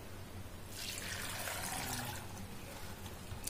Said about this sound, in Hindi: उसके बाद इसमें हम पानी डालेंगे